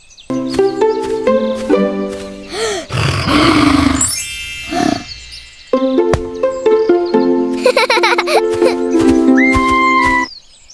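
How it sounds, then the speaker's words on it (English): A lion roars loudly and close up, a rough sustained roar lasting a couple of seconds amid bright playful electronic tones and jingles, as from a toy animal set. "This is a lion."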